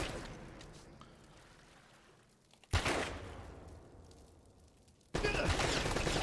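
Bursts of gunfire in the action video game Uncharted: Drake's Fortune: a loud crack of shots that decays into an echoing rumble, then a second sharp, loud volley near the end.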